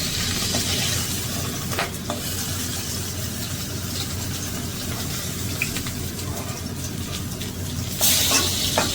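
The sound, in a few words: tangra fish frying in a pan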